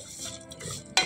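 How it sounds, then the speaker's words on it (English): Noodles fry in ghee with a close, busy sizzle and stirring scrapes, ending in a sharp utensil clatter, with no voices. "Lutuin ko siya sa ghee"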